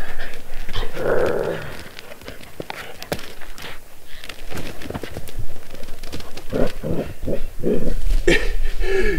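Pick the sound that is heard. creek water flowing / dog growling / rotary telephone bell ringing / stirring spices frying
dog growling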